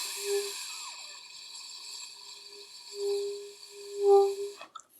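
A beginner's breathy, airy saxophone tone with a faint wavering pitch that fades in and out in short attempts, soft and close.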